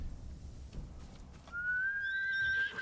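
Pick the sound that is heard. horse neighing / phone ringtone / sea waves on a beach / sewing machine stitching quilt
horse neighing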